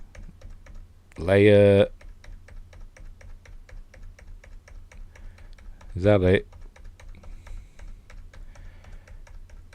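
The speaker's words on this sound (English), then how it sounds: "You can hear tapping because I'm pressing keys, trying not to miss bits." Typing on a computer keyboard: a steady stream of light, close key taps runs through the whole stretch, briefly covered by two short bursts of a person speaking.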